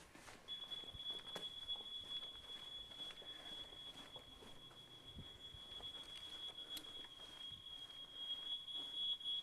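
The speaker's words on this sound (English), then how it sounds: "That's our smoke alarm." A home smoke alarm sounds a thin, high continuous tone during an October 2003 fire. It is faint and steady throughout, with scattered soft knocks and rustles in the background.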